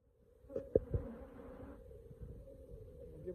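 A bee swarm inside a hive box gives off a continuous low buzzing hum, steady and close, with a few soft knocks and bumps near the start.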